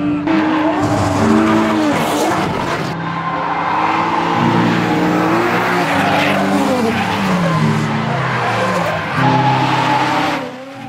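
Loud, continuous engine roar with wailing tire squeals as drifting cars slide past a wall at a drift event in Japan, the screeching rising and falling throughout.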